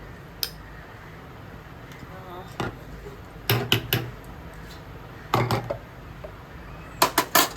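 A lid clinks down onto a pot of Bengali prawn malai curry, several short metallic knocks and taps spread across the moment, with faint kitchen background between.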